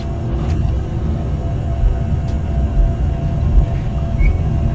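Boeing 737 engines held at takeoff power in a flight simulator cockpit, a steady, dense low rumble that swells slightly, with no voices.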